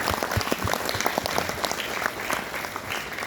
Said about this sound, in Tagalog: bigyan natin ng isang masaganang palakpakan ang ating